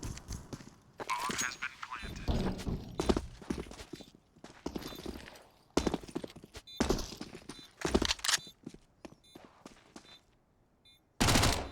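Counter-Strike match on Dust2 with a scout sniper rifle: sharp rifle shots and bursts of gunfire ring out in bunches across the stretch, punctuated by sudden loud cracks amid busy in-game noise.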